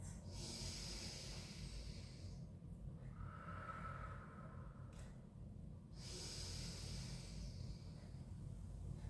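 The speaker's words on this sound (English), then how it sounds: "Four more breaths" Slow, deep inhales and exhales during a pilates class, soft and close, rising and falling in long airy swells with no talking.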